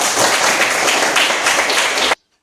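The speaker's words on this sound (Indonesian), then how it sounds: "Ya, tepuk tangan untuk Juan." A classroom of students claps together for a classmate, a dense, close burst of applause lasting about two seconds before cutting off abruptly into silence.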